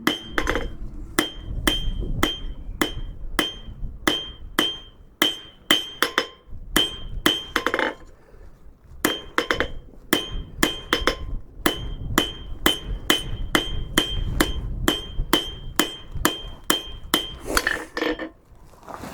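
A rounding hammer strikes hot steel on an anvil to forge a taper on a cabinet handle, ringing in loud, evenly spaced blows with a few brief pauses between bursts.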